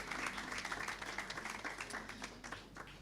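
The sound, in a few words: audience applause at nursing graduation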